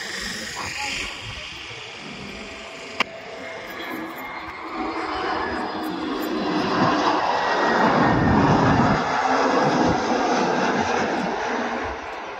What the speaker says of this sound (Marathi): विमानाचा दर्शन घडलेला आहे.